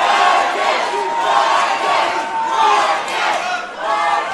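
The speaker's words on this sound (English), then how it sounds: "we have a battle of MacRae and Mantis from the crowd" At a live mixed martial arts event, a large crowd loudly chants for two fighters. Rhythmic, sustained chanting fills the whole stretch with little pause.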